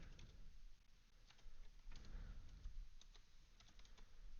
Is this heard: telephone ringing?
no